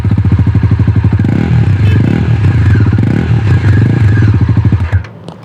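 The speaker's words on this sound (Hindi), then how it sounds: "चलिए अब आपको मैं NS का साउंड सुना देता हूँ।" Bajaj Pulsar NS400Z motorcycle idling up close, its belly-mounted exhaust giving a loud, steady rapid thumping pulse with slight revs, cutting off abruptly near the end.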